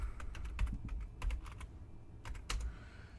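Rapid clusters of keystrokes on a computer keyboard entering column names for an SQL insert statement, close and fairly quiet, with short bursts separated by brief pauses and no talking.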